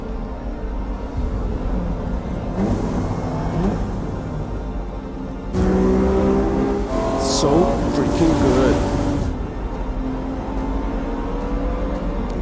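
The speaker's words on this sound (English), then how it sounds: "Dude, just car sounds. Just car sounds." Car engines roar and rev over a cinematic soundscape in the Ferrari film trailer, with rising swells and a blaring horn-like tone, while people talk briefly over it.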